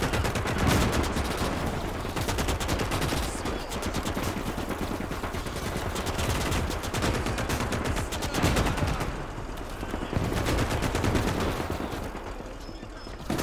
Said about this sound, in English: Oh, that is a Nebelwerfer. Oh, that is devastating.